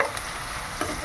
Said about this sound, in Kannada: ಹಸಿಮೆಣಸು ಹಾಂ, ಚೆನ್ನಾಗಿ ಫ್ರೈ ಮಾಡ್ಕೋಬೇಕು.